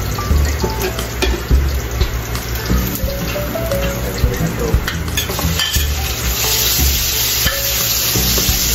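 Ginger for adobo fries in a pan, a loud close crackling sizzle running steadily with occasional stirring scrapes and clinks of a utensil.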